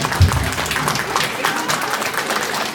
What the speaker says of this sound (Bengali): সবাই জন্য একবার জোরে হাততালি ওদের জন্য।